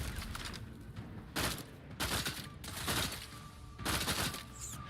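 Gunfire in the video game The Outer Worlds 2 crackles in sustained bursts of fusillade that rise and fall over a steady background, with brief voice lines from the game's characters mixed in.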